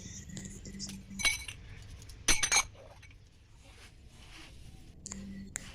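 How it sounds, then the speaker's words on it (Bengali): Metal objects clink and rattle against each other amid soft scraping and rubbing, like small brass items being handled and scrubbed, close by. "এখন প্রদীপগুলো ভালো করে মেজে নিচ্ছি"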